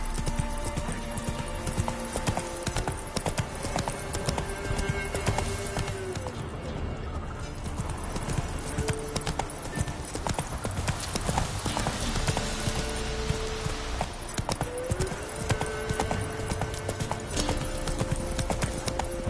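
Horse hooves galloping in The Witcher 3 game, a dense continuous clip-clop rhythm running throughout under steady game ambience and layered effects, close and fairly loud, with no clear talk.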